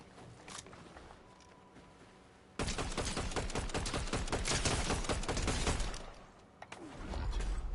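A sudden dense burst of rapid automatic gunfire in a video game, close and loud, lasting several seconds, then pausing briefly before more shots resume.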